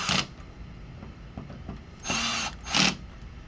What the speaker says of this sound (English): We're going to go ahead and screw in our Phillips screws, mount our circuit board.